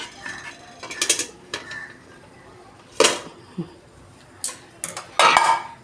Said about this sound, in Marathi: आणि कुकरमध्ये आता हे भांडं एकदम हळूवार ठेवा, कारण कुकर गरम आहे.